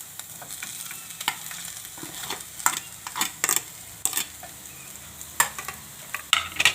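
Boiled potatoes being stirred into a rava stuffing frying in a pan, a soft steady sizzle broken by a run of sharp spoon scrapes and clicks against the pan, close and fairly quiet, with no talking.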